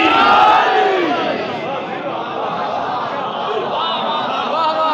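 Crowd at a Milad gathering during Rabi ul Awal shouting a religious slogan in unison, a loud collective roar of massed voices that peaks at the start and stays strong throughout.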